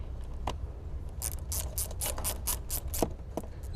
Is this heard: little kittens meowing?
no